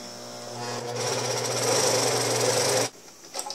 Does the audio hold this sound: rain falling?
no